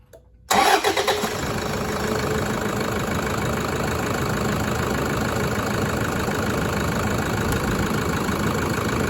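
A 2011 Toyota Hilux engine cranks briefly and catches, then settles into a steady, loud idle that runs on evenly, close by with no talking.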